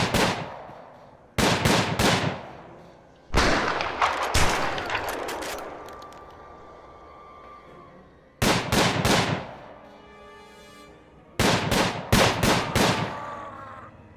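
Guards opening fire in the prison-management game Prison Architect: several loud bursts of rapid gunshots in clusters, separated by echoing decays and brief pauses, with no talking.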